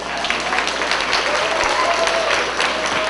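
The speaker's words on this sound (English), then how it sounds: "Give her a round of applause." A school audience at School No. 29 in Rochester breaks into sustained, dense applause from many hands, loud and even throughout, with faint voices mixed in.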